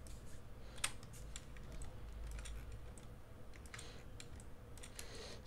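Computer keyboard keys pressed in scattered quick clicks and short bursts during a design session, close and fairly quiet over a low steady hum, no voices.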